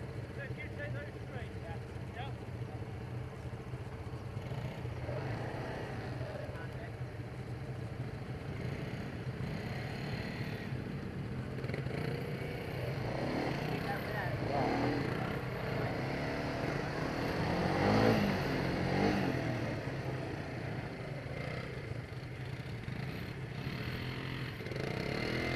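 Light quad bikes revving over broadband engine noise that swells and fades, louder near the middle, with voices talking over it throughout.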